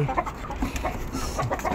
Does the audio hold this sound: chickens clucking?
yes